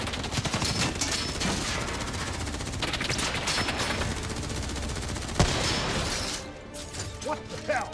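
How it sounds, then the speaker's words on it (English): Heavy gunfire in the video game Call of Duty: Black Ops 3, continuous rattling automatic fire with clanking impacts and a sharp crack midway, loud and close, easing off near the end amid game audio. "Who's shooting?"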